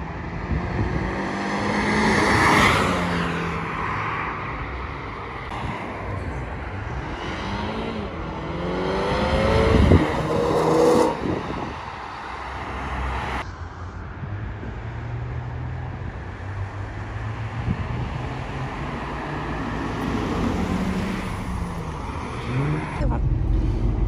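A BMW M135i engine and exhaust idling and revving, with throaty swells and a burst of acceleration midway, heard up close and fairly loud, with someone talking over parts of it.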